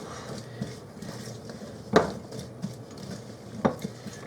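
Oven-roasted vegetables tossed in a pan with a spatula give a few soft scrapes and clacks, with two sharper metallic knocks standing out against a quiet kitchen background.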